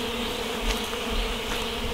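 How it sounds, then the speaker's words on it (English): A bee swarm gathering in a bush outdoors makes a dense, continuous buzzing hum, moderately loud and steady throughout, with no voices. "there's a bee swarm happening in the bush here"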